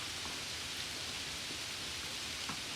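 Steady, dense rain pouring down with a constant hiss and scattered drop impacts, no voices.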